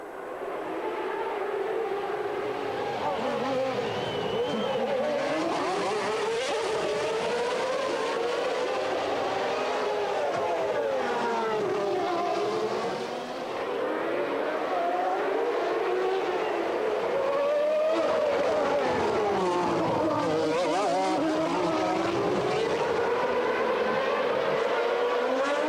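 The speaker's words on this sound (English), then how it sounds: "The McLaren driver used all his skill never to allow Mansell the opportunity to get into an attacking position" Formula One race cars at the Monaco circuit, engines wailing continuously with rising and falling pitch as they accelerate and brake through corners, loud and sustained without talk.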